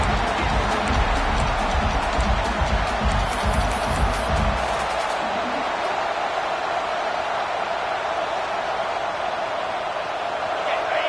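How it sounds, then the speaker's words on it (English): Football stadium crowd in Miami versus Oklahoma roaring to spur the defense in the red zone, a broad, sustained wash of cheering noise, with a commentator's voice over it early on. "And here comes the noise. This crowd is trying to inspire this defense to make a big red zone stop."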